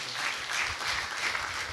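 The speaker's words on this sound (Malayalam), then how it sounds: "നല്ലൊരു കയ്യടി ഷിൻസിന് കൊടുത്തേ" Quiet applause from a congregation at a church retreat, soft and distant, lasting under two seconds after a singer's performance.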